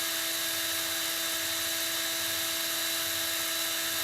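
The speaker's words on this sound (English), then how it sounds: "I've had this drill a long time." An electric drill runs continuously with a high, steady whine while being used for building vape coils, close and alone with no talk.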